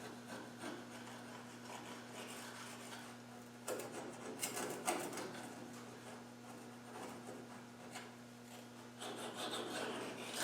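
Scraping of residual sealer off a Land Rover Defender bulkhead with a non-metal tool: continuous rough rubbing and rasping strokes, close but fairly quiet, getting busier midway, over a steady low hum.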